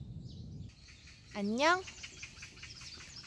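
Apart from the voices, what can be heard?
birds chirping and singing in a park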